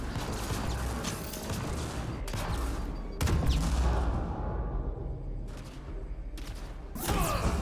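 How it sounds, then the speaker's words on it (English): Shotgun blasts in Mass Effect: Andromeda multiplayer combat, sharp loud reports at irregular intervals that stand out over a constant din of battle noise. "we'll use our shotgun"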